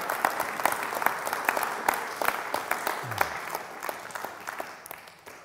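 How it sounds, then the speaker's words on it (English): Small audience clapping at a church gathering, moderate steady applause with distinct individual claps that gradually thins and fades. "Should we give him a clap?"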